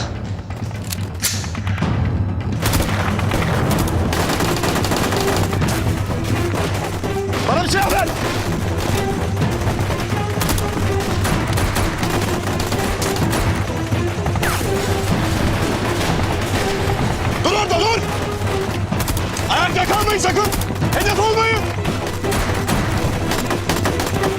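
Rifle and machine-gun fire rattles through a Turkish TV drama battle scene, sustained bursts and thuds layered with loud action noise over about twenty seconds.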